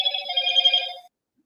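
An odd electronic phone tone on a call participant's line, a steady buzzing trill that holds for about a second, then cuts off into silence.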